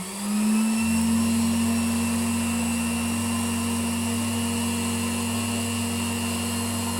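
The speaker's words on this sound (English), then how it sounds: "it still vacuums." A vintage Bylock table vacuum cleaner, restored and fitted with hose, wand and floor tool, runs steadily with a loud, even motor whine and hum that starts up in the first second and holds throughout, with no talking.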